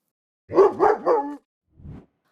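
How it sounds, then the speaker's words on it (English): A dog barks three times in quick succession, fairly close and loud, then gives one fainter, shorter bark after a brief pause. "I can hear some barking."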